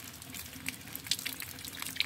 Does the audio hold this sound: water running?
yes